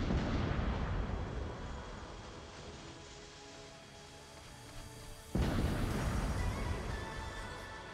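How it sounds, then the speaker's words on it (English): Rockets launched from a combat robot's weapons in the mech game War Robots: a loud roaring blast that fades, then a sudden second launch with a heavy booming rush, close and without talk. "the second rocket didn't hit"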